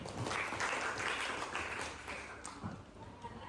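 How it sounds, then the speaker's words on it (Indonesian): Applause at a school environmental presentation on zero waste, a crowd clapping steadily and fairly close for the whole stretch, easing slightly toward the end. "beri tepuk tangan untuk ini."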